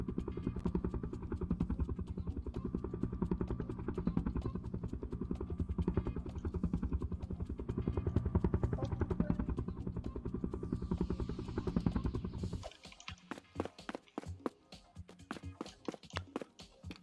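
Helicopter in the Ultimate Factory Tycoon game, a loud rapid rotor chop pulsing steadily for about twelve seconds before cutting to sparser, sharper intermittent thumps and clatter, close and without speech.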